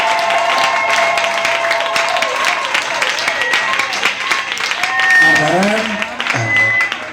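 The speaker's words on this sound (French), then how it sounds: "J'aimerais que tu acclames plus que ton voisin." A church congregation applauds and cheers in a continuous, crowd-wide clatter of clapping, with voices calling out over it throughout and a speaking voice rising near the end.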